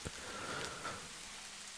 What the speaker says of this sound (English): And yes, it is raining.